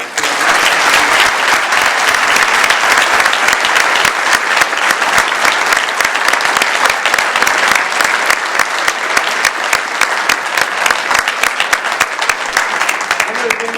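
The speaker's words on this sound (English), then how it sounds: "can we please give them a round of applause?" A crowd applauds panelists loudly and steadily for several seconds, dense clapping from many hands that holds at an even level to the end.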